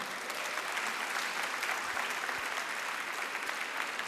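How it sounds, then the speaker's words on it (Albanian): Studio audience applause at a televised Albanian song contest, a dense, steady wash of clapping that fills the whole stretch at even loudness with no talk over it. "E në mënyrë të veçantë është atmosfera dhe duartrokitjet e kësaj audience"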